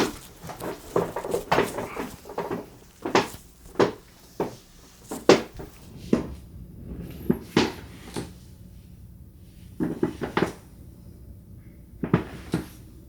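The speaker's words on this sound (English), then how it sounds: "making noise when I'm moving or kind of adjusting my" Creaks and clicks from a Herman Miller Sayl office chair as the person sitting in it shifts and adjusts posture, coming as a dozen or so short, sharp, close-up bursts at irregular intervals with quiet gaps between them.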